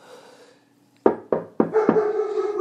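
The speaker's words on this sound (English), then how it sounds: "Knock, knock, knock." Four sharp knocks on a door, spaced unevenly and close by, after a short stretch of quiet, with a faint low background hum continuing behind them.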